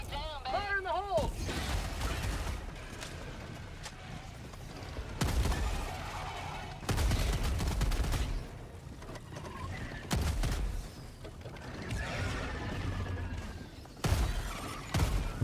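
Shotgun blasts from a Breaker Incendiary in Helldivers 2, fired against bugs: repeated loud, heavy booms spread through the stretch, mixed with game noise and other bursts of combat.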